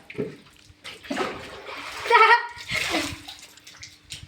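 Water from a bucket splashes down while a mare is being bathed, heard as a couple of pouring gushes close by, with people talking over and between them.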